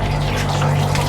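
Water poured over a small child during a bath, a steady close splashing gush that runs for about a second with a low hum underneath.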